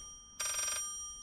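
A telephone rings once in the horror video game Layers of Fear, a short bright electronic trill lasting under half a second over a quiet background hum, with no speech.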